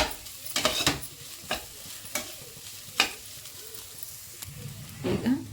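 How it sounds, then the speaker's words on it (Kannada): Green chillies and grated coconut fry in a pan for a village-style palya, a soft sizzle punctuated by several sharp scrapes of a stirring spoon, with a brief voice near the end. "ತೆಂಗಿನಕಾಯಿ ಕೂಡ ನೀಟಾಗಿ ಸ್ವಲ್ಪ ಫ್ರೈ ಮಾಡ್ಕೊಳ್ಳೋಣ"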